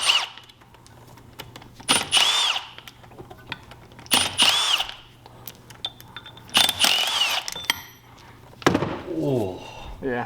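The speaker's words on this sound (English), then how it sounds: "We crack these loose before we put the drill on it" Power drill backing out Allen screws on a Seadoo 951 engine being disassembled, three short whirring bursts of a couple of seconds each, close up, separated by pauses with handling noise and a voice talking.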